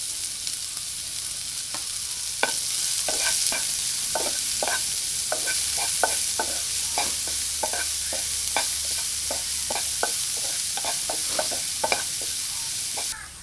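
Onion stirred and sautéed in a pan for chicken kilikkoodu, a steady close sizzle with a rhythmic series of sharp spoon scrapes and clacks, no voices.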